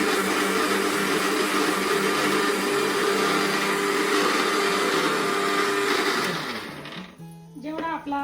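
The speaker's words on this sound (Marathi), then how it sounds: "अजून थोडा मी बारीक करून घेते मसाला" A mixer grinder runs at its lowest speed, grinding masala for a village-style chicken rassa, with a loud steady whirring drone. Near the end the motor winds down and stops, and a voice comes in.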